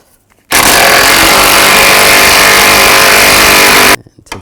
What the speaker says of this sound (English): Now we're going to take these 3 bolts out,